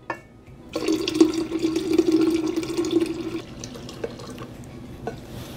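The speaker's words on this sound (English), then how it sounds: "I'm gonna pour in my tea." Iced tea pours into a pitcher in a steady close liquid stream lasting about three seconds, followed by a few faint drips and clinks.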